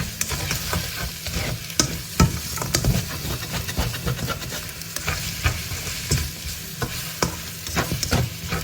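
Shrimp fried rice stir-fried in a pan: constant loud sizzling broken by frequent sharp scrapes and taps of a utensil tossing the rice, close up and without speech.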